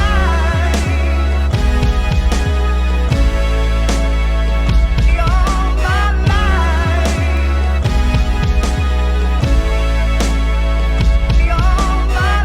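A full drum loop with layered kicks and snares plays alone over a sample, steady and punchy with a bouncing rhythm and repeating bars throughout.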